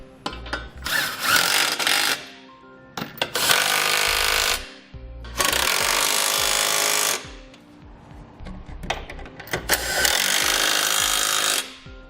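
A power tool with a 19mm socket snugging trailer hitch bolts on a 2018 Toyota RAV4, four loud rattling bursts of about two seconds each separated by short pauses.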